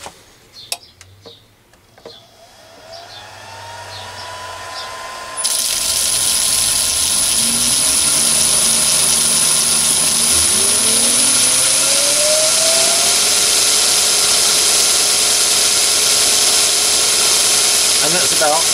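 A Chinese mini lathe fitted with an indexing pulley spins up to its top speed of about 980 RPM, a loud close whine that rises in pitch and then holds as a steady high mechanical hum after a few faint clicks.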